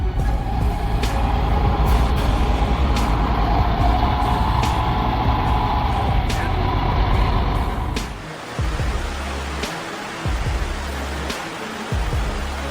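A truck pushes through a deep, raging river with a loud, continuous engine rumble and rushing water, broken by sharp clicks and bursts. The sound then changes abruptly to a thinner, hissing noise with intermittent low surges.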